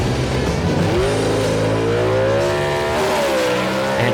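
A Barracuda gasser drag car launches at a Southeast Gassers race at Emerald Coast Dragway, its engine roaring loud and close, then climbing in pitch through rising revs and gear changes.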